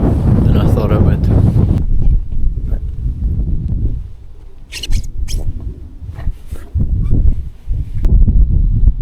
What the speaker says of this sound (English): It is absolutely bitter cold with that wind.